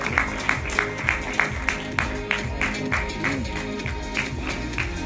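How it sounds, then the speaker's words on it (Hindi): Audience at a Bollywood film launch event claps in a regular, rhythmic beat over loud music with a driving bass pulse, the claps steady and evenly spaced throughout. "जोरदार तालियां बनती"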